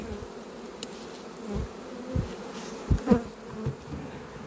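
Honeybees buzz around a hive entrance as foragers come and go carrying rosebay willowherb pollen, with several close passes rising and fading over a low, steady drone.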